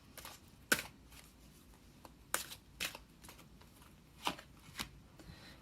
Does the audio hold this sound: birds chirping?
no